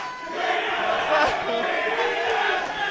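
Crowd at an esports match between TSM and Team Liquid cheering and roaring, a dense sustained wall of voices throughout, loud and close, with chanting mixed in.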